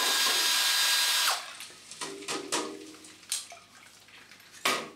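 A Cyklone paint mixer spins in a container of water, a steady whirring swish that runs loud for over a second, then stops and gives way to a few short splashy bursts and clatters, with no talking.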